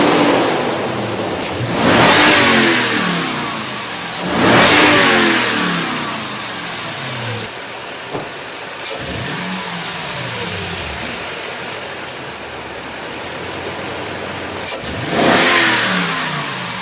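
A Toyota Tundra engine with its stock intake and a K&N air filter revs hard in three surges, rising and falling over a steady rumbling idle, loud and close with no talking.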